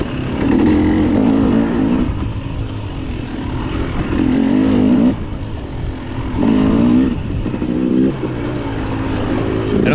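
A KTM 300 XC-W two-stroke dirt bike races in a hare scramble, its engine loud and close, with repeated revving surges and throttle drops on rough trail terrain.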